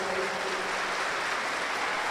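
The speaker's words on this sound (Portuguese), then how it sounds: "Pode dar uma salva de palmas para o Senhor" Continuous clapping from a congregation at an evening Sunday Mass, a dense, even applause that holds at steady loudness throughout without any speech.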